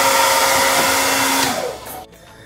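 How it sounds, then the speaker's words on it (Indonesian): Hair dryer in a passenger ship cabin on the KM. Dharma Kartika 2, a steady whirring blow with a fixed tone that winds down and cuts off near the end, close and alone. "Di sini ada hair dryer juga ya."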